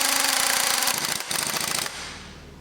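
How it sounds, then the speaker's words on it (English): A strut top nut on a Ford Mondeo Mk4 front shock absorber gets driven tight with a rapid, loud rattling impact gun burst lasting under two seconds, then stops. "I'm just going to whack this nut down nice and tight"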